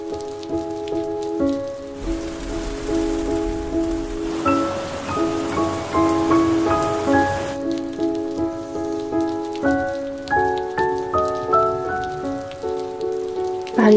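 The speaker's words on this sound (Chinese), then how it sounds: "在下雨。" Rain falls steadily on a surface in Paris, a dense patter that runs throughout beneath sustained tonal music, with no voices over it.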